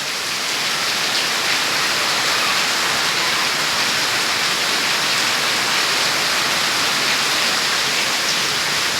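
Heavy monsoon rain pours down steadily in the Konkan countryside, a dense, continuous roar of downpour with gusting wind, loud and unbroken throughout.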